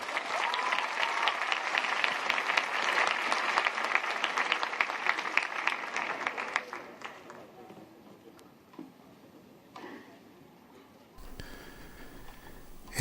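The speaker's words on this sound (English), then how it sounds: "Round of applause." A crowd at an interreligious youth event at a Catholic junior college in Singapore breaks into loud, dense applause that runs for about six seconds, then fades into quiet room sound with scattered faint noises.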